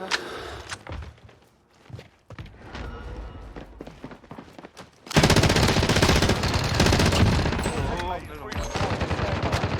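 Gunfire in Warzone, with a C58 and CWMP5 loadout, starts as scattered shots and footsteps, then erupts halfway into loud, continuous automatic bursts up close, with players talking throughout.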